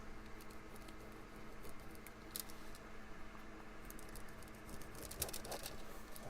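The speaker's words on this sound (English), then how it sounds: "Almost sounds like it might be raining out there again." Rain falls outside, a faint, steady patter heard from indoors throughout, with occasional slightly sharper taps.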